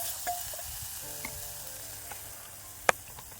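Green chili and turmeric sautéing in a pan for a buttermilk kadhi, a steady soft sizzle and crackle with a few sharp clinks of stirring, close by.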